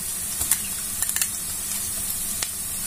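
Tomato paste and pepper purée sautéing in a pan, a steady bright sizzle with a few sharp crackles and spatters near the start and one later, close and fairly loud with no talking.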